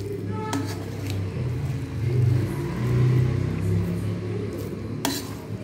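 A spoon stirs cooked seeraga samba mutton biryani rice in a pot, making a low continuous rumbling scrape with soft shuffling and a couple of sharp clinks against the pot.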